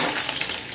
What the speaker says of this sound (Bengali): মাছগুলো আমার এপিট উপিট করে ভাজা হয়ে গেছে